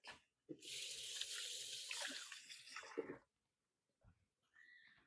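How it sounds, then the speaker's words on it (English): Hands are washed under a running kitchen sink tap, a steady rush of water for about three seconds, then it stops, followed by brief faint handling sounds, close and quiet. "Let me wash my hands real quick."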